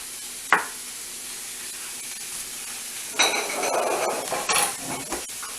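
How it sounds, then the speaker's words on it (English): Zucchini and squash being sauteed in a pan, with a sharp utensil clink on the pan, then a soft sizzle and stirring scrapes, close and without talk. "our zucchini, and our squash. We're going to saute that."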